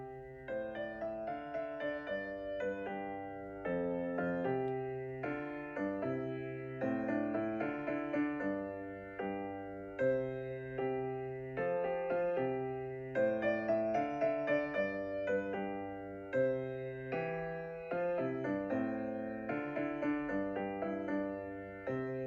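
A four-voice chorale, a student composition project, plays back at a spirited dotted quarter equals 76, with steady block chords moving in even phrases, clear and moderately quiet with no talking.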